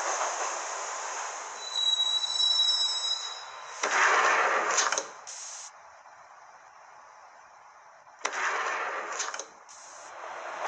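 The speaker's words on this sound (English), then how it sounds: "the train doors had already shut behind me, and I was in for the ride" A subway train rides through the Max Payne Mobile game world with a steady rumbling roll, punctuated by two loud bursts of squealing wheels that rise and fade, plus a high electrical whine early on.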